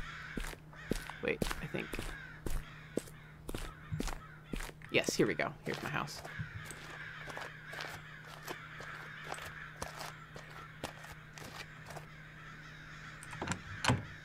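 Crows in a Chilla's Art horror video game caw again and again in a steady, insistent series over a low hum, while someone talks over them.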